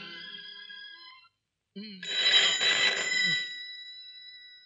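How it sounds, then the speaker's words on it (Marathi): A telephone rings in electronic tones, pauses briefly, then rings again with a burst of noise, fairly close and alone. "फोन घ्या, तुमच्यापासून जवळ आहे."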